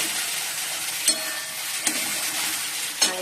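Spices sizzle and fry steadily in a pan as they are sautéed for a Bengali home-cooked dish, with a few sharper scrapes from stirring at intervals; no one speaks.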